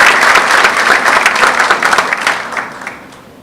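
Audience at an evening book launch applauds to welcome a speaker, dense steady clapping filling the hall before tapering off near the end.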